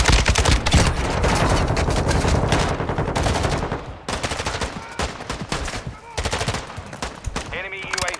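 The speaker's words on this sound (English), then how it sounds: "You are taking effective fire." Dense automatic gunfire from a Ghost Recon shooter game rattles almost continuously, loud and close, with brief gaps and a few single shots toward the end.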